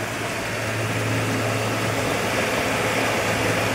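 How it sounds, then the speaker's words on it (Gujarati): A new LD 3500 tractor pulling a trolley on the road from Anjar to Radhanpur, its engine giving a steady, close, low idling drone with constant vibration throughout and no talking. "આપણો છે નવો ટ્રેક્ટર"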